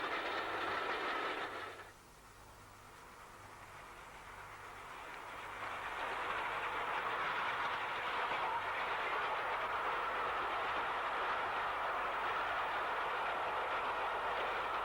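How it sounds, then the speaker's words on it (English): GWR Manor Class steam locomotive 7820 Dinmore Manor working hard up to and across Swan Lane level crossing heading for Birmingham, a steady rumble of the passing train that swells and holds loud, with rhythmic clicking of wheels on rail. "Manor Class 7820 Dinmore Manor of Oxley Wolverhampton Shed is working hard as she comes up and across Swan Lane level crossing heading for Birmingham"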